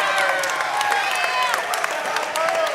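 A crowd at a live combat-sports event applauds and cheers split-decision winner Edward Jackson after an overtime round, with steady clapping running beneath an announcer's amplified voice.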